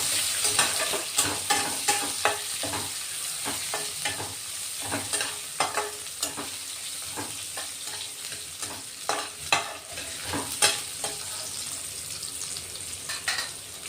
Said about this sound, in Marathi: कांदा अर्धा कांदा कट करून घेतलेला, परतून घेऊ आता